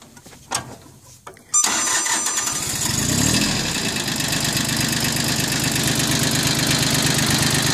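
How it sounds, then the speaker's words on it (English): A Mitsubishi MT1601D tractor's diesel engine cranks briefly, catches and settles into a steady, smooth idle that stays loud and close to the end. "Go ahead and start it up."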